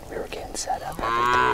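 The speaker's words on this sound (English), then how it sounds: "you could probably hear the cows right now." Cattle low near an Arizona hunting setup during Coues deer season, with a long loud moo filling the last half second after quieter talk.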